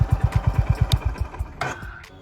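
A Honda CB350 motorcycle engine thumps in a fast, even low pulse close by, the beat fading after about a second and a half into softer road noise.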